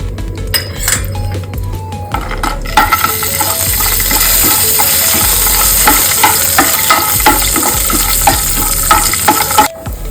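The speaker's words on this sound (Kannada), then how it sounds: "ಇಲ್ಲಿ ನೋಡಿ, ಇದಕ್ಕೆ 1 ಸ್ಪೂನ್ ತುಪ್ಪ ಹಾಕ್ಕೊಳ್ತಾ ಇದ್ದೀನಿ. ಈ ಗೋಡಂಬಿ ಹಾಕ್ತಾ ಇದ್ದೀನಿ." Cashews fry in ghee in a pan for sweet pongal, a steady loud sizzle with frequent clinks and scrapes of a spoon stirring against the metal, no voices.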